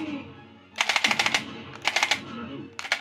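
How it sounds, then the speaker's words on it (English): In the Maximum Force arcade video game, a machine gun fires in three rapid bursts, loud and close, with short pauses between them. "Get that machine gun going again."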